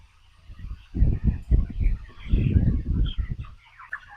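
Chickens about 25 days old cluck and murmur in a coop, a cluster of low clucks rising and falling in short bursts, fairly close, with faint background noise.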